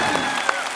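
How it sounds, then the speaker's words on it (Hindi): Studio audience applause at a comedy talk show, a dense, steady wash of clapping that runs through the whole short stretch at a fairly loud level. "बस अब जोरदार तालियां हो जाए मेरे।"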